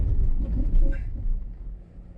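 Land Rover Defender 90 or 2021 Jeep Wrangler Rubicon 4x4 engine rumbling low and close as the throttle opens while climbing a rocky step off-road, steady then easing off slightly.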